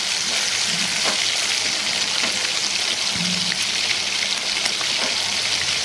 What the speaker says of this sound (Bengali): কুমড়োগুলো সব ভাজা হয়ে গেছে